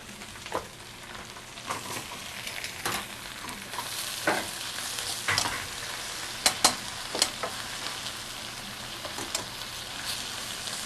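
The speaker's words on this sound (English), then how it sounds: "So now the spinach is going in." Spinach wilts in a hot pan with a steady broadband sizzle, broken by irregular clicks and scrapes as it is stirred and cooked down for a steak roulade filling; no voices.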